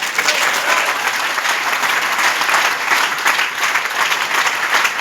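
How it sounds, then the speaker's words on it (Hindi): Audience applause at a university-level camp, a large crowd clapping continuously and densely, loud and even for the whole stretch with no talk over it. "ऊर्जा नहीं है तालियों में"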